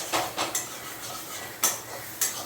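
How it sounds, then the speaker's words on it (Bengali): Spiced masala paste cooked down in oil in a pan for a hilsa fish dish, giving off sharp isolated spluttering pops at irregular intervals over a low quiet background. "তেল ছেড়ে দিয়েছে মশলার থেকে সিটি না ধরে টক টক টক টক করতে থাকে"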